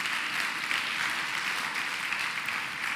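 Congregation applause during a Spanish-language church sermon, a steady, even roar of many people clapping together, filling the space without pauses or voices over it.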